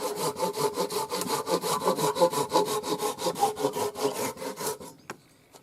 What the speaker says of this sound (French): je casse les arêtes à la plane